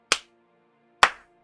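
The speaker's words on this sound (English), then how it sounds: "I know my claps are loud" Two loud, sharp hand claps about a second apart ring out close in a quiet room, each with a short decay.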